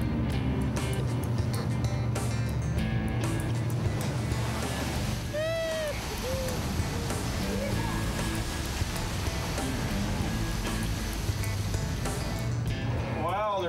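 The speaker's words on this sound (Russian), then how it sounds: "Идет несколько высоких волн." High ocean waves surge around a crab-fishing boat, a loud continuous wash and roar with wind buffeting and scattered tonal cries over the churning water.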